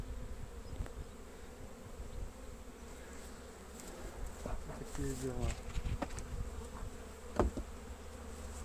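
Honeybees buzz continuously around an open hive being prepared for queen rearing, close and moderately loud, with someone speaking briefly over the hum.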